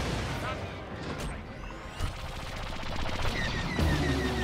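Starfighter cannons firing automatically in Star Wars Battlefront 2, a busy stream of rapid blaster bursts and crashing impacts layered with engine roar and a game soundtrack, steady and loud throughout.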